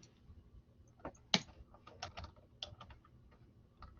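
Someone types on a computer keyboard, entering a search: a close, quiet run of irregular key clicks with a few sharper, louder strokes scattered throughout.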